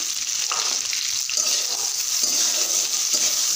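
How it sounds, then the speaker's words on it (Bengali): Sliced onion and potatoes fry together in mustard oil, a steady close hiss and sizzle with faint stirring and no talk. "পেঁয়াজটা তেলে দিচ্ছি, দিয়ে দিচ্ছি।"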